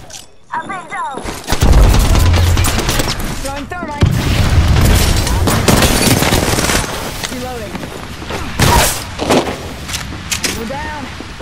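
Dense automatic gunfire and booming shots from the Apex Legends battle game, loud and near, in rapid bursts with heavy impacts throughout, while a player's voice talks over the action at times.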